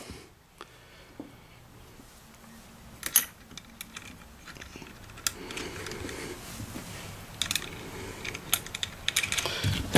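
A chain lever hoist mechanism gives a run of sharp mechanical clicks and ratcheting ticks, some close and crisp, scattered irregularly over a low background rumble.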